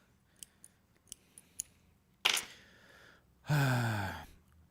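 German-made Derby scissors, apparently not stainless steel, are handled in a warehouse: a series of light metallic clicks, then two louder, longer rasping snips close by.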